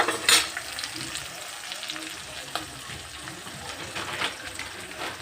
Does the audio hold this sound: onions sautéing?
yes